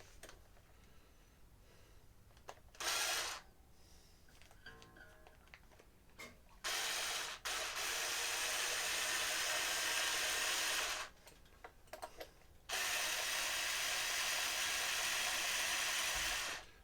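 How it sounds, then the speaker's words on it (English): A cigar box guitar's strings are slackened with a winder tool in several separate bursts of close mechanical whirring, each a few seconds long, with quiet handling noises in the gaps between them. "So I gotta loosen these strings."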